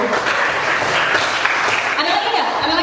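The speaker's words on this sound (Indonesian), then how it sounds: "oke, tepuk tangan dulu" An audience at a university entrepreneurship talk applauds, a continuous wash of clapping filling the room, with voices mixed in beneath it.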